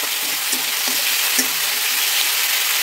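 Garlic, ginger paste and cumin powder frying in a pan for dhaba-style egg curry make a loud, steady, close sizzle, broken by a few light stirring clicks.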